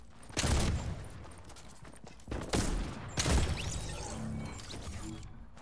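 Gatling gun fire in a shooter video game: a few heavy bursts, each a loud crashing rattle that fades out, separated by short gaps, over a busy game background.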